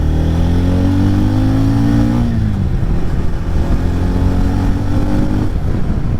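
A TVS Ronin motorcycle engine revs up loud and close, the pitch climbing and then dropping as the throttle is released, before settling into a rough rumbling idle.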